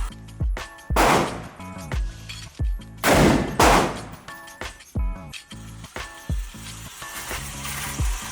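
Gunshots fired at a shooting target ring out as a series of sharp, loud cracks at uneven intervals, two especially heavy blasts standing out, with metallic clicks and handling noises between them.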